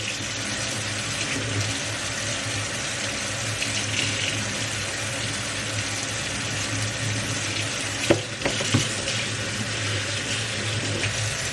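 Water runs steadily from a tap in a broad, continuous hiss as a makeup sponge is rinsed under it, with a couple of brief soft bumps near the end and no one speaking.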